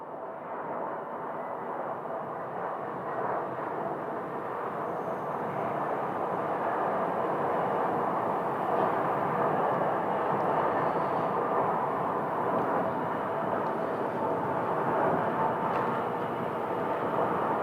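An American Airlines airliner lands at Phoenix Sky Harbor Airport, its broad, steady jet roar holding loud and constant throughout without breaks.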